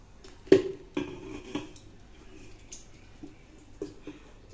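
Mutton cooking in a pot on a home stove for Bengali New Year, stirred with a utensil: a few sharp, close metallic clanks against the pot, followed by softer scraping and occasional lighter knocks.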